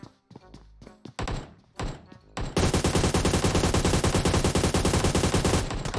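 Gunfire in the PUBG Mobile video game: scattered single shots and thuds give way to a sustained rapid automatic burst, loud and close, with brief pauses between the early shots.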